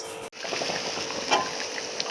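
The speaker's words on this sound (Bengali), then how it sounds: "তরকারিটা ঢেলে দেবো।" Thin fish curry with silver carp, green banana and pepper leaves poured into hot oil tempered with cumin, giving a steady close sizzle and bubbling after a brief cut, with small clinks near the end.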